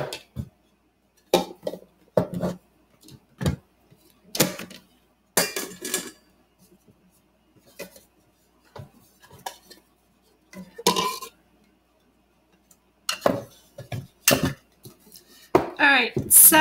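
Pioneer Woman mixing bowls and dishes being handled during an unboxing, with sharp ceramic clinks, knocks and clatters in irregular bursts, close and fairly loud, between stretches of quiet and some talk.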